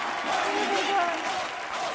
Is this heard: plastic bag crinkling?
no